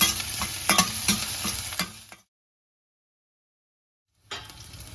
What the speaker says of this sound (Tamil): பொறிஞ்சு வந்ததும் நம்ம வந்து ஜிஞ்சர் கார்லிக் பேஸ்ட்டை சேர்த்துக்கிறோம் நல்லா வதக்கி விட்டுக்கிறோம்